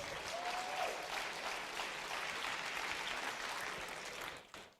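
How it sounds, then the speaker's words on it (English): Warm, sustained applause from a conference audience after a talk, many hands clapping together at an even level before tapering off at the end. "Please give them a warm round of applause."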